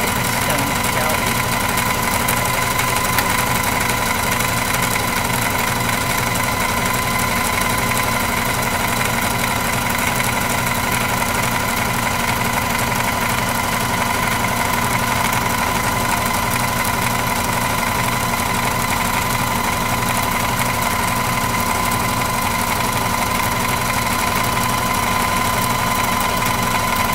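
A sewing machine stitching pant pockets runs in one long, steady motor whir with a constant hum that stays loud and unbroken for the whole stretch.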